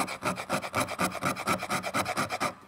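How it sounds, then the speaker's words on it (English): The sharp 90-degree edge of a fire striker scrapes shavings off wood in a fast, even run of about twenty close, loud rasping strokes that stop abruptly. "you can just get on here and carve out some wood. little shavings there"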